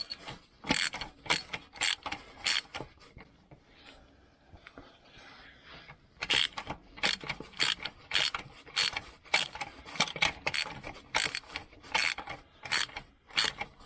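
A ratchet loosens the 13mm starter bolts on an LS1 engine with loud, close bursts of clicking. The clicks come in regular strokes, stop for a short quiet stretch, then start again in a longer run.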